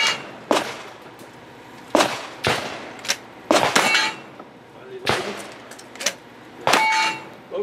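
Gunshots striking steel targets at a cowboy-style shooting stage ring out as about seven sharp, clanging metallic hits at uneven intervals, fairly loud and close.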